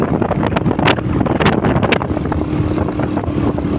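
Strong wind buffets the microphone in loud gusty bursts over a constant roaring background on a road to Barangay Magtaon, Northern Samar.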